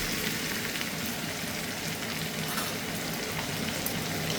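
Ridge gourd and potatoes fry together in a pan, making a soft, continuous hiss and sizzle that is faint but steady, with light stirring and no speech.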